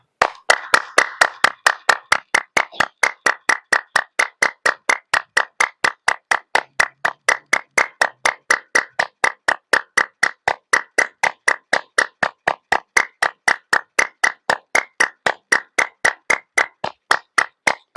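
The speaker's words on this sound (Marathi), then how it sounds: "हात असे घ्यायचे आणि अशी टाळी जोराने मारली पाहिजे" Sharp, loud hand claps repeat in a steady fast rhythm, about three per second, for the whole stretch, performed as part of the Kali mudra practice, close and alone with no talking.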